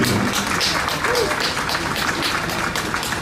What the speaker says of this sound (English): Let's give these folks a round of applause today too.